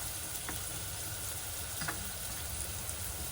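Onions, curry leaves and salt frying in hot oil, a quiet, even sizzle that holds steady with a couple of faint stirring taps.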